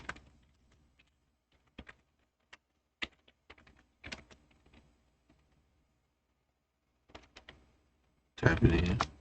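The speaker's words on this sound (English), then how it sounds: "Type it in." Someone types on a computer keyboard in scattered short clusters of clicks with gaps between them, close and light, ending in a louder burst of noise.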